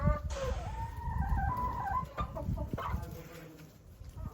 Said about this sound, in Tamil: அது முட்டை வர கோழி தான் முட்டை இட்டுருக்கு